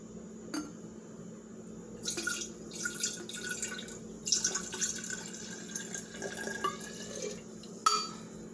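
Red wine vinegar poured carefully from a cup into a mason jar, giving soft intermittent trickles and drips against a quiet room, with a few brighter splashes near the end.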